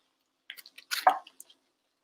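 Tofu liquid draining from a cut-open package, a few soft close drips and squishy splashes clustered in a brief burst, quiet with no talking.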